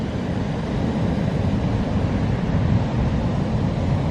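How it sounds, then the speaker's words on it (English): Strong wind at the seaside roaring steadily against the microphone, a continuous dense rumble with no let-up and no voices. "I can't really use an umbrella here because it's just too windy."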